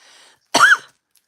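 A single short, close throat clear with a cough-like burst stands alone after a faint, brief voice.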